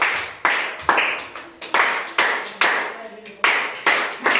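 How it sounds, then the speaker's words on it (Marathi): A group of mothers and parents at a village workshop clap in unison, sharp crisp claps with short gaps between them, several in a row, each one ringing briefly before fading. "आपण सगळ्यांनी मिळून यांना 3 टाळ्या देणार आहोत।"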